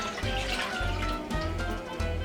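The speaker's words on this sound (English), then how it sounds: "we do that by putting the rice washings" Rice washing water pours into a pot to start sinigang broth, a steady splashing gush with soft bubbly surges, close and fairly quiet, no one talking.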